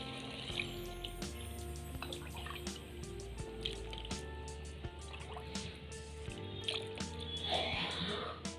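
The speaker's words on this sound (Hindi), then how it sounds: "तो लीजिए अब आप पानी डालिए।" Water poured into a pot of paneer and garlic curry simmering on a rustic clay chulha, with steady trickling and dripping sounds over a low background hum and scattered clinks.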